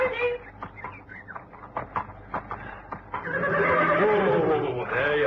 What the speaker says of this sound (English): I'll tie the horses up for you.